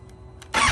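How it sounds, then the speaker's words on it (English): Motorcycle in neutral with its kickstand down, starting up: a brief quiet moment, then the engine abruptly catches and roars loudly and close. "So if the bike is in neutral and the kickstand is down, the bike will turn on."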